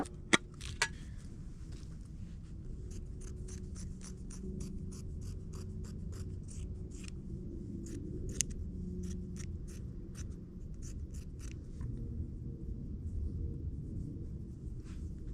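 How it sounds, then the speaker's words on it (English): Wood and an old shirt being cut into small pieces to fit tin cans for char cloth, a run of short crisp snips and cuts repeating at an uneven pace over a low steady background rumble, close by with no talking. "Now let's get cutting up our wood and our shirt to fit inside these tin cans"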